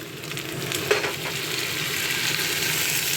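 Potato and eggplant pieces frying in a pan of oil, a dense continuous sizzle with stirring scrapes and a small clack, close and steady with no talking.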